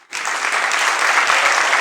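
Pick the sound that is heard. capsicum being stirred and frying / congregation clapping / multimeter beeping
congregation clapping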